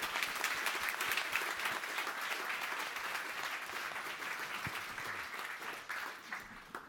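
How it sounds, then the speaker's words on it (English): Sustained audience applause at a React London tech meetup, a dense steady patter of many hands clapping for about seven seconds, tapering slightly toward the end, with no talk over it. "A round of applause, please."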